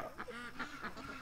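Ducks quack repeatedly in a rapid, uneven series of nasal calls at a park where ducks and geese gather, fairly close and clear with no talking.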